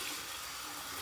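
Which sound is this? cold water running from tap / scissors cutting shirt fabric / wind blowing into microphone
cold water running from tap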